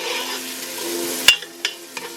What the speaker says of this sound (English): We're gonna cook these onions down until they are transparent and fragrant.